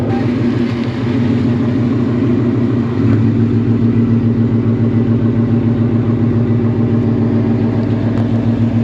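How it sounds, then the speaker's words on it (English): A Ford Mustang Mach 1 on the road gives a steady, loud mid-pitched engine rumble that lifts slightly a few seconds in and holds a continuous drone. "I could still hear his car on the road."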